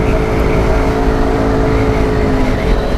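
A small motorcycle fitted with a JBL Flip 4 portable speaker, riding at fairly high speed, gives a steady, loud roar of engine and wind that carries on unbroken throughout.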